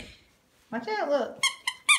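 A dog's squeaky toy gives three sharp high squeaks in quick succession after a person speaks briefly.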